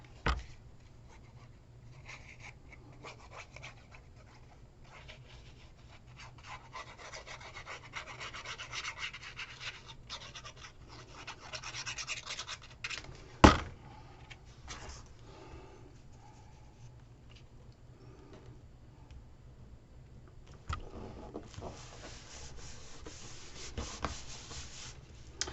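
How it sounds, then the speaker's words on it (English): A bone folder burnishes glued paper on a handmade album card, giving quiet, intermittent rubbing and scraping strokes with a sharp tap in the middle. "Burnish it down with your bone folder."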